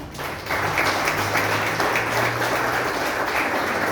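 A church congregation at a wedding vow ceremony breaks into steady, dense applause that swells after a brief start and holds evenly throughout, with a low sustained tone underneath.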